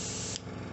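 Airbrush spraying paint at low pressure onto model figures, a short steady hiss close by lasting under a second, with no talk.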